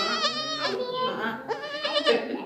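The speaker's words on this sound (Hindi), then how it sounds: "हम चले गए आरुषि की नानी के घर पे, जहाँ पे मिली मुझे छोटी सी बकरी जो पता नहीं 3 दिनों की थी और इतनी क्यूट थी ना।" Tiny baby goat, about three days old, bleating loudly and insistently in several drawn-out, wavering cries close by, with short pauses between calls.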